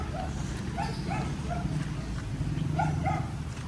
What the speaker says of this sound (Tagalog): Laki ng aso ni Carla, oh.